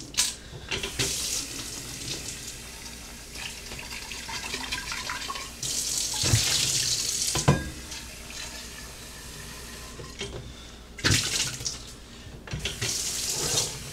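A used tag-sale coffee pot is scrubbed with a sponge on a stick under a running tap, with steady water splashing throughout and louder bursts of rushing water as the pot is moved beneath the stream.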